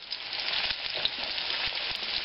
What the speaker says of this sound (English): It's frying a little bit too much.